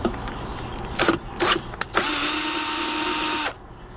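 Power drill backing out screws from an Instant Pot IP-DU08 pressure cooker during repair: two short bursts, then a sustained steady whir of about a second and a half, close and loud with no talk over it.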